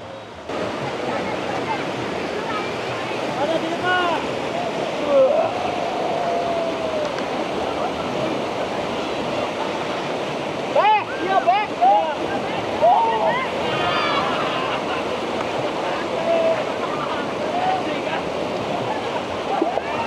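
A hot-spring river at Sari Ater flows with a steady, close rushing wash that runs continuously, while a few brief voices and small splashes rise over it partway through.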